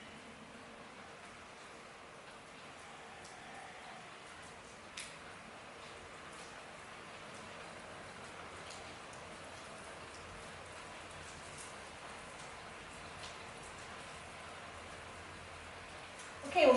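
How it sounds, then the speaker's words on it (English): Heavy rain during an indoor yoga session, a steady, faint hiss of rain on surfaces with occasional louder drops and a brief clunk near the end. "Oh my God, it's raining so hard, I love it."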